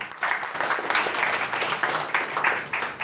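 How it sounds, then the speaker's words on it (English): Audience applause at a Toastmasters club meeting, a steady patter of many hands clapping at moderate volume for about three seconds, with no talk over it. "Huge round of applause for all the role players."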